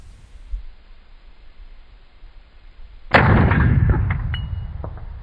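A single sharp 6.5 Grendel rifle shot fired at long range, 450 to 560 yards, bursts loudly out of quiet outdoor background, followed by a ringing tail and faint distant impact clangs.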